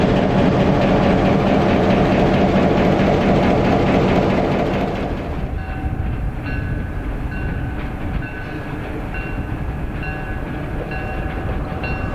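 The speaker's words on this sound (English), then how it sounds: "we watch and ride the Santa trains with SW1200 diesels 1161 and 1136 doing the honors" A passenger train hauled by two EMD SW1200 diesel switchers in pull-pull fashion rumbles past close by in Illinois, loud steady rolling noise and wheel clatter throughout, the tone shifting partway as the cars go by.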